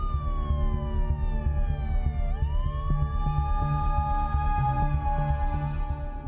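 A loud wailing emergency siren at an airshow crash at Al Maktoum Airport in Dubai sweeps down and back up in pitch, continuous throughout, over a dense low rumble.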